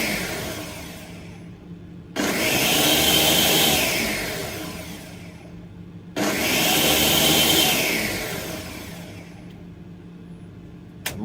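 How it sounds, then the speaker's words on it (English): A kitchen blender runs in two short bursts, each a loud whirring roar of about four seconds. Each burst starts abruptly and winds down, with quiet room tone between them. "I'm just going to wet the blender on for 2 seconds."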